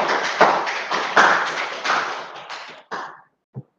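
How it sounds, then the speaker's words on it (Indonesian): Applause rises in a classroom, a dense patter of clapping hands for about three seconds with a few louder claps standing out, then thinning and stopping, followed by one last isolated clap. "Tepuk tangan."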